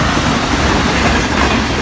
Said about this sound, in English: this train coming from Karachi, Sir Syed Express, going to Rawalpindi